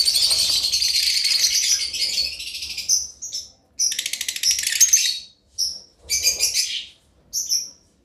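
Caged African lovebirds, a flock including parblue, yellow Fischer's and blue masked birds, chirp and tweet in dense shrill bursts, continuous at first and then in short separated flurries, close and fairly loud with no talking.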